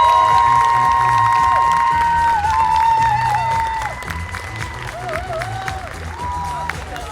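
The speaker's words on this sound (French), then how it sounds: "Je vous demande d'applaudir très fort Céline Montserrat." Audience applause and cheering at a dubbing actors' conference for voice actress Céline Montserrat, a dense steady wash of clapping from a large crowd, loud at first and easing slightly in the second half, with tonal music sweeping above it.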